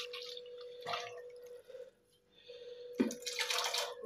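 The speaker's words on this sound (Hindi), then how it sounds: "तो थोड़ा सा पानी ऐड कर देंगे ताकि ये अच्छी तरह से जो है अंदर से" Water poured into a cooking pot holding ground spices, a splashing, dripping pour that pauses briefly and then returns in a louder, fuller burst, with no talking.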